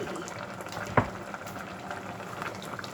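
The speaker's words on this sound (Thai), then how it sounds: "เดี๋ยวเดือดสักครู่ก็ปิดเตาได้เลยค่ะเนี่ย" Thai bamboo shoot and mixed vegetable curry bubbling steadily in a pot, a close, continuous boil with one brief clink near the start and no talking.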